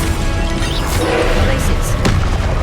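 Fiery Confringo blasting spell explosions from Hogwarts Legacy combat burst out as sharp booms within dense, continuous battle noise, with a voice heard over the fight.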